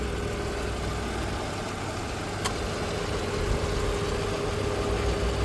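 A 2009 Chevy Equinox engine idles just after starting, giving a steady, even hum with a low drone that holds constant throughout, close by and with no voices.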